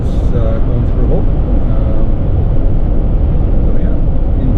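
A car drives through a highway tunnel in British Columbia with a steady, dense roar of road and engine noise that echoes and fills the space at an even level throughout.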